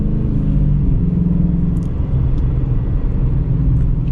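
A 2018 Dodge Challenger R/T Plus with active exhaust rolls along, its deep steady engine rumble heard from inside the car, loud and constant without any sharp revving.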